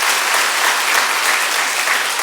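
A church congregation applauds together, a full, even wash of clapping that fills the hall from start to finish without a break.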